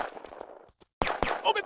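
Gunfire in a video game firefight: a couple of sharp, loud shots crack out after a brief quiet gap, following a stretch of lighter clattering action.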